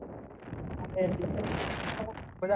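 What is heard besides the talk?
strong wind blowing on a hilltop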